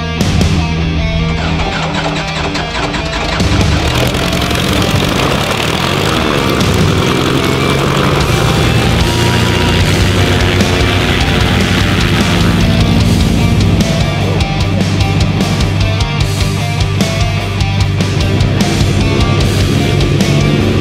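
A stunt plane in flight, its engine and propeller droning loud and continuous from up close, with the pitch rising and falling as the aircraft manoeuvres.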